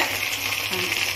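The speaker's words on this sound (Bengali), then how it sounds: "রসুন বাটাটা দিয়ে দিচ্ছি" Garlic paste goes into a hot pan with oil and fries, giving a continuous bright sizzle with a faint low hum underneath, close and even.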